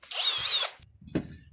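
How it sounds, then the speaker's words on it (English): A cordless drill fitted with a bit whirs close up for about half a second, then stops, followed by a few faint clicks and a light tap in an otherwise quiet workshop during boat trailer work. "Now I'm going to use is just a bit and my cordless drill."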